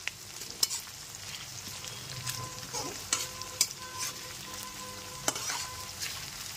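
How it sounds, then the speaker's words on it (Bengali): Sliced onions fry slowly on a medium gas flame with a low, steady sizzle. Several sharp metallic taps and scrapes of a stirring utensil come at irregular intervals, and nobody speaks. "মিডিয়াম ফ্লেমেই পেঁয়াজগুলোকে ধীরে ধীরে ভেজে নিতে হবে"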